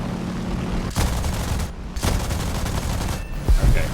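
Gunfire from an aircraft in the video game War Thunder comes as three loud rattling bursts over a steady engine drone, each short volley followed by a brief lull.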